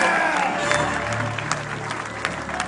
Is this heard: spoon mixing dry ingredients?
no